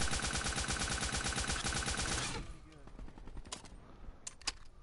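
Rapid automatic gunfire in a hardcore team deathmatch shooter game, a steady stream of close, loud shots for about two seconds, then stopping, followed by a few scattered sharp sounds.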